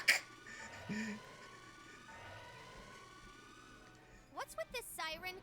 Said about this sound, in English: What's with this siren?